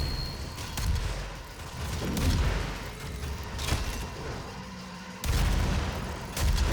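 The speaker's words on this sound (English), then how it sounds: "really try and listen out for the guns" In the DOOM video game, gunfire and heavy impacts sound as a string of booming bursts over a dense mix of game sound. The shots are fairly loud and come at uneven intervals, with a sharp, strong hit near the end.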